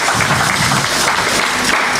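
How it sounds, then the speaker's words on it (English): Round of applause from an audience at a poetry book launch, a dense steady wash of many hands clapping at once, close and loud throughout with no pauses. "I think we should give him a round of applause."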